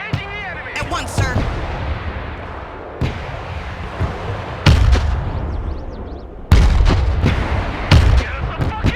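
PzH 2000 self-propelled howitzers of a Lithuanian artillery battery fire in the video game Broken Arrow, a string of sharp booming shots with echoing tails, several heavy blasts spaced over the seconds amid battle clutter and brief voices.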